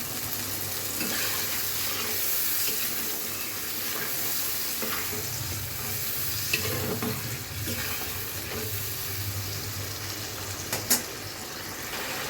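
Tomato and spice paste for a village-style duck egg curry sizzles and fries steadily in a pan, with occasional stirring scrapes and faint clinks, close and continuous with no talk.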